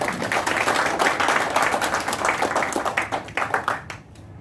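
Audience clapping at a live LIC insurance seminar in Patna, a dense burst of many hands applauding fairly loudly that thins out and fades near the end.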